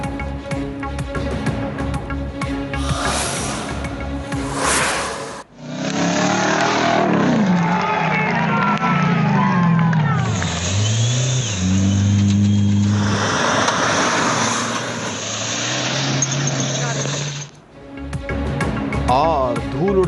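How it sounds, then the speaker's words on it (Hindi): Rally jeeps at the Muzaffargarh Thal Jeep Rally race across a dusty desert track, their engines roaring and revving loudly as vehicles pass close, broken by short cuts between shots. "और धूल उड़ाती गाड़ियों का शोर।"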